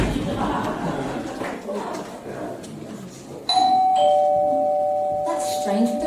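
A two-tone doorbell chimes in a cartoon fairytale village, the sustained ding-dong ringing out clearly over a lively background of crowd murmur and chuckling.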